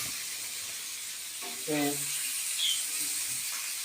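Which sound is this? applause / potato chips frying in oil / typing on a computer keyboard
potato chips frying in oil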